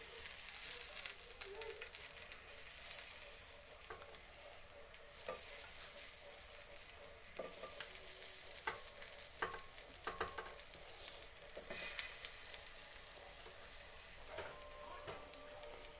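Raw banana slices frying on a hot tava over low flame, a soft continuous sizzle with scattered faint clicks and scrapes, close but quiet throughout.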